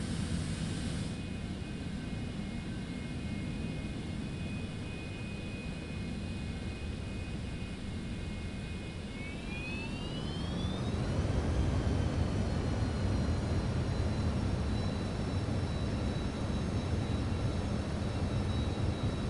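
Jet airliner in Microsoft Flight Simulator 2024 spooling up for takeoff on runway 27, a steady broadband engine roar with a whine that rises in pitch partway through as thrust builds, then holds loud and constant.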